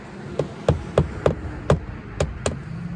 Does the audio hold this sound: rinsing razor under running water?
no